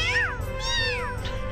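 Cat meows from the video game Disgaea 4, two clear, high, rising-and-falling mewing calls close up over a low background hum, with no talk.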